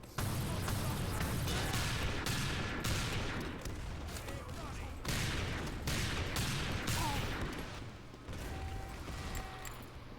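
A rapid series of revolver shots from the Spy in Team Fortress 2, set against loud continuous game battle noise with other gunfire and chaotic combat sounds.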